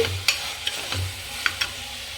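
Tomatoes sautéing with salt in a pan give a steady close sizzle, broken by several sharp scrapes and clacks as a spoon stirs them.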